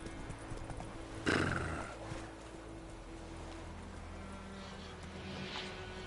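Video-game horse Roach trots with steady clip-clop hoofbeats, joined by a brief loud whinny or burst early on, over a constant ambient game background; no talking.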